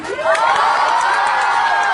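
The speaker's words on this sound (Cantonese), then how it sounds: "俾多啲掌聲好唔好啊？" Fans at a Twins 10th anniversary fan party cheer and shout loudly in a dense, sustained crowd roar, with some applause underneath and high-pitched whoops rising over the continuous noise.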